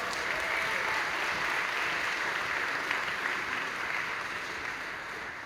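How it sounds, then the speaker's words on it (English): A crowd applauds steadily at a high school spring concert, dense continuous clapping that fades slightly toward the end. "Can we give them another round of applause?"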